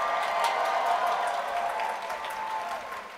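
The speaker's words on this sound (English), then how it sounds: "Big round of applause." Sustained crowd applause at a law school commencement ceremony, a thick steady wash of clapping mixed with a faint background murmur throughout.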